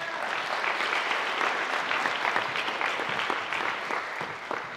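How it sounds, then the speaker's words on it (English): An audience at a 2021 Gaither High School senior awards ceremony claps in sustained applause, a dense even wash of many hands filling the room, holding steady before easing slightly at the end. "A round of applause, please, for the following, for the accomplishment."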